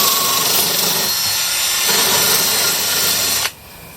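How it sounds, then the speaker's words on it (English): An angle grinder with a wire brush strips rust from a Kombi engine door, giving a loud, continuous whirring grind that cuts off abruptly near the end. "starting to make a bit of progress with a combination of the angle grinder and the wire"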